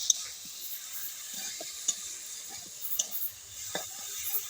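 Vegetables dusted with Kashmiri chili powder fry in a pan while being stirred, giving a soft, steady sizzle broken by a few brief scraping and tapping strokes of the spoon.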